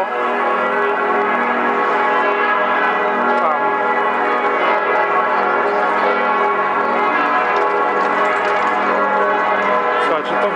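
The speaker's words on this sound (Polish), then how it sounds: "dzwony" Church bells in Osnabrück's old town ring out together in a rich, sustained peal, loud and continuous, their overlapping tones filling the air.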